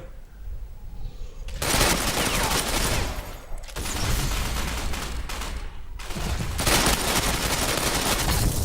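Automatic gunfire from the online shooter Ghost Recon Online, loud sustained bursts of rapid shots in three long stretches separated by brief pauses, close and continuous.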